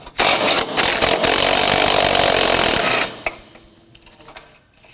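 Power tool removing the bottom bolt on a Toyota Camry rear bumper impact absorber, a loud close whirring burst lasting about three seconds, then stopping abruptly with a faint clink afterward, no talking.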